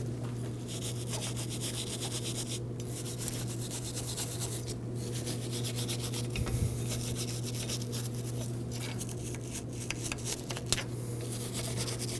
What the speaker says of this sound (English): Before installing your new rotor, you want to make sure you clean up the hub, especially right around the hub-centric ring.